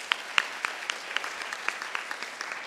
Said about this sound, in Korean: 다시 한번 큰 박수를 드리고 세션 마치겠습니다.